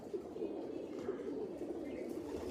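A compact Teddy pigeon of the Salara type coos steadily in a low, soft, continuous murmur, close and even in volume throughout.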